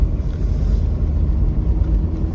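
Off-road Isuzu or SsangYong vehicle engine held under steady throttle: a continuous low, rumbling drone with wind buffeting on the microphone, no distinct revs or pauses.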